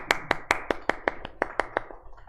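A group of students clapping in a classroom, about a dozen sharp, evenly spaced claps, close and moderately loud, fading toward the end.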